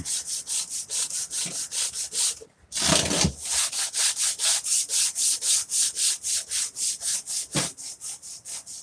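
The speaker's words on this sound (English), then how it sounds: "I've turned my sandpaper to an angle to catch the corner" Wooden cabinet drawer sanded by hand with sandpaper, steady rhythmic back-and-forth rasping strokes close up, with one brief pause and a heavier scuff partway through.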